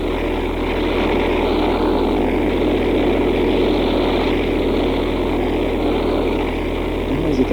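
Charles Lindbergh's heavily loaded propeller airplane takes off from a wet field, its loud, steady propeller drone continuing throughout without voices.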